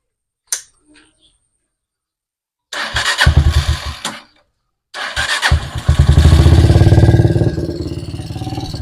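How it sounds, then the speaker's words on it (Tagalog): Yamaha motorcycle engine cranking and catching, two starter attempts with a pause between, then settling into a loud steady idle with a dense rapid putter, close by. "Kailangan nakabukas yung ating motor diyan"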